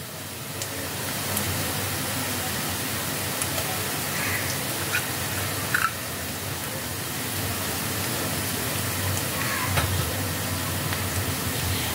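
Onion, ginger and garlic fry in oil, producing a steady, loud, hissing sizzle that runs without pause throughout, with a few faint clinks now and then and no voices.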